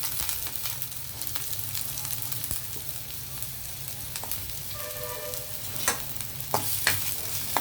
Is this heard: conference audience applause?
no